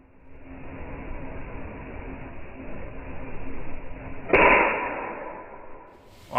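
A SIG Sauer MCX Virtus PCP air rifle fires a pellet with a sharp, close hiss-crack partway through, after a steady airy background noise, followed by a fading hiss as the air runs out.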